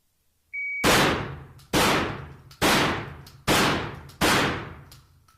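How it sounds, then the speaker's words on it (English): Five loud shotgun blasts of buckshot fired at targets, evenly spaced about 0.85 seconds apart, each a sharp crack with a decaying boom, close and alone. "the course of fire is going to be 1 round per target for a total of 5 rounds with 9 pellets in each shot"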